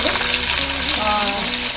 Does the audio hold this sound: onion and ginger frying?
yes